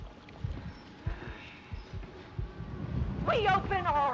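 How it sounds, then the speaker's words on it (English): A heartbeat in Resident Evil 7 thumps as low, steady, close pulses roughly every half second beneath a faint ambient hum, and a voice speaks over it near the end. "I gotta wait till the heartbeat goes away"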